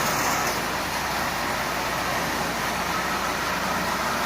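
A Marx 999 toy steam locomotive with an 8-wheel tin litho tender runs steadily around its track at a moderate pace, a continuous whirring, rattling hum with no talk.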